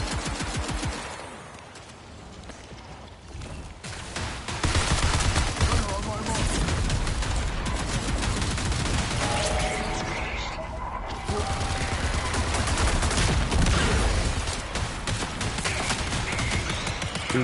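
Continuous gunfire fills a PS5 shooter game, with sustained automatic bursts and dense explosive battle noise under loud game effects, while a player talks over it.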